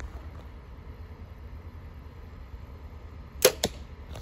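Arrow loosed from a bow and striking a target: a sharp thwack followed by a second quick impact near the end, over steady low outdoor rumble, close and otherwise quiet.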